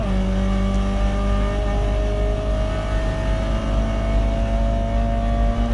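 Peugeot 206 GTi 180 race car at Mallory Park in a tin-tops club race, its engine droning steadily at full throttle from the onboard position, loud and continuous with a slowly shifting pitch and no talk.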